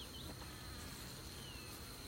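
Bees buzz around a homemade comb that is being trimmed to fit into hive frames, giving a steady, close, continuous droning hum.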